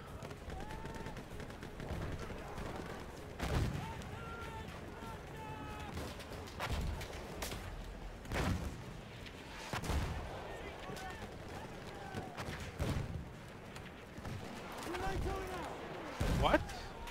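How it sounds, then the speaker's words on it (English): Air mortar strikes explode in the Battlefield 1 multiplayer game: several sharp, booming blasts land at irregular intervals, loud and punchy, under continuous player chatter and background battle noise. "Ooh, air mortars already."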